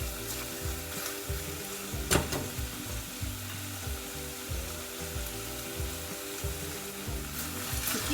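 Mutton pieces sizzle and crackle in a hot pan for an Anglo-Indian stew, a steady close frying hiss with occasional stirring scrapes and pops.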